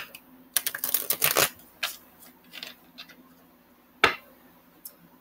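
A tarot card deck being shuffled by hand: a dense burst of riffling card snaps, then a few scattered slaps and one sharp tap, close and fairly quiet, with no talk.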